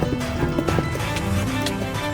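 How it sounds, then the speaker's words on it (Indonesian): Horses clop in a video game, their hooves tapping irregularly at close range beneath a constant wash of game noise, with no voices. "Ini tempat kuda."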